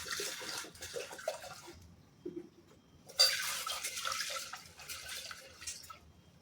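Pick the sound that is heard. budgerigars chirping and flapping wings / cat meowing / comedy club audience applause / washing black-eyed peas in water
washing black-eyed peas in water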